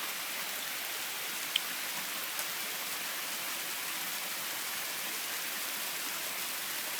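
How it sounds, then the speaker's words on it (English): Hail comes down outdoors in April as a constant, even hiss of dense pelting with no pauses, with only a couple of faint isolated ticks standing out. "Look at it hailing."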